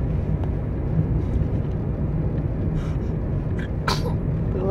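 A single sharp sneeze near the end of the clip, close and brief, rising out of a steady low background rumble.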